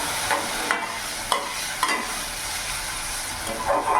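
Ginger, garlic and chilli paste stirred into a mushroom gravy in a hot pan, with a steady bright sizzle and a few light scraping strokes of the spoon, close and alone without any voices.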